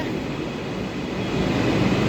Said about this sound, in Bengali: আমাদের ট্রেন এসে গেছে।